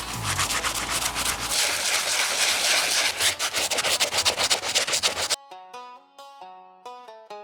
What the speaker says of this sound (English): The Soft Bristle Brush did a great job getting the majority of the grime off the rubber outsole.